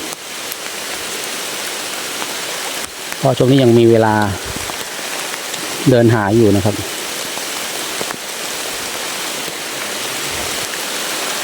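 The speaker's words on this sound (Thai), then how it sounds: "ฝนก็ค่อนข้างที่จะตกเยอะพอสมควรนะครับ" Heavy rain pouring down outdoors, a dense continuous hiss that fills the whole stretch while someone speaks twice over it.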